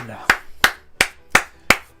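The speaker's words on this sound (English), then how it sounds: "People, round of applause for Morgan!" Five sharp, evenly spaced claps ring out in a steady rhythm, loud and close, with no other sound between them.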